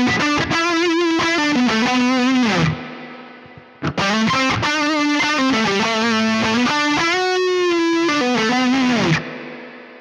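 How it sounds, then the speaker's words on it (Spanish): Distorted electric guitar through a Neural DSP Mesa Boogie Mark IIC+ amp plugin with spring reverb, playing sustained chords and riffs that ring out with a washy, lingering reverb tail in two long phrases. "Es una reverb muy spring o muy shimmer."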